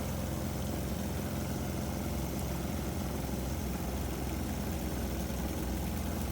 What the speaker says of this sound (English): with the 4 loads engaged, the alternator is now putting out 70 amps, which causes the little engine to struggle to maintain RPM